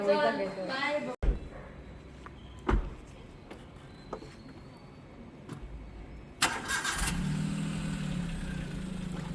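A car engine is started outdoors: after a few scattered knocks and quiet background, the starter catches with a sudden loud burst and the engine settles into a steady, moderately close idle.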